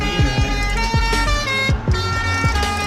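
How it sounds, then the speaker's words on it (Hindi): A red truck's horn blares in a loud, sustained tone with harmonic layers, while rhythmic low thumps pulse underneath throughout the short stretch. "यहाँ पर संगवारी हो ये लाल ट्रक वाला हा ऐसे हॉर्न बजाई"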